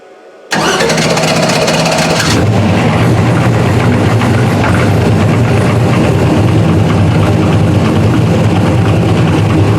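A car engine starting with a replacement starter: a brief crank, then the engine catches and settles into a loud, steady, close roar with no voices.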